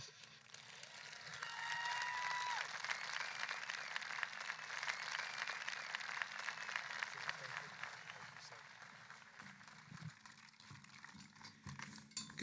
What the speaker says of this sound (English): A big round of applause for United States Senator Jim Risch.